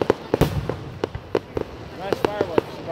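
Fireworks bursting at a Fourth of July show in Walpole, Massachusetts, a string of sharp cracks and pops at irregular intervals, some crackling, heard from a moderate distance while people talk nearby.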